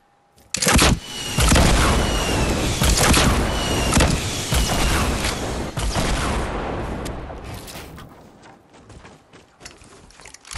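Rocket explosions in Fortnite: a sudden loud boom followed by a sustained roaring blast of overlapping detonations that slowly fades over several seconds, with no talking.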